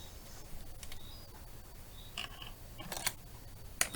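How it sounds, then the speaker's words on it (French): Scissors cut a small square of paper in a quiet room, producing a few faint, crisp snips spread apart against low background hiss. "Alors maintenant, je vais couper le petit carré qui est là."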